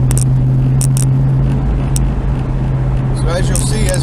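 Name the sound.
car driving through a road tunnel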